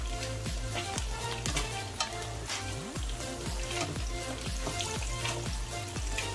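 Ingredients for egg khichuri sizzle and fry as they brown in a pan, a steady crackling hiss with rhythmic stirring scrapes, close and uninterrupted.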